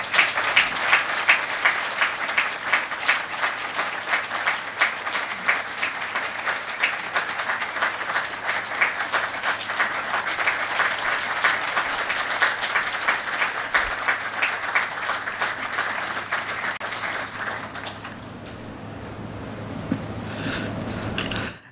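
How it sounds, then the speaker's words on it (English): Sustained round of applause from an audience at a Pentagon award ceremony for an LGBTQ Pride leadership award, dense steady clapping that carries on for most of the stretch before fading to room noise. "Please join me in a round of applause for Dr. Daniel"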